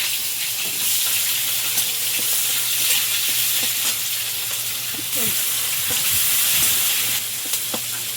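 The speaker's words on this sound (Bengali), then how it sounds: "এপাশে তেলের মধ্যে একটু 5 ফোড়ন দেবো, তেজপাতা, পেঁয়াজ কুচি" Bay leaf, panch phoron and chopped onion fry in hot oil with a loud, continuous close sizzle, punctuated by occasional stirring clinks and scrapes.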